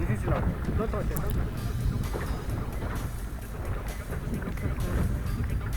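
A speedboat engine idles off Cozumel with a low, steady drone, mixed with wind buffeting the microphone and faint voices in the background.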